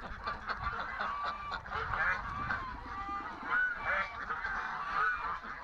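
Several geese honk repeatedly in a noisy, overlapping chorus, with ducklike calls mixed in and a rough outdoor background throughout.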